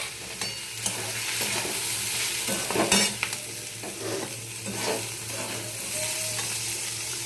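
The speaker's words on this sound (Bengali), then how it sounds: "এবার দেবো সুজিগুলো, ভাজা সুজি ভেজে রেখেছিলাম সেই সুজিগুলো।" Roasted semolina is stirred and fried in a pan along with green chillies and tomato. A steady sizzle runs under repeated scraping strokes of a spoon, close and without talk.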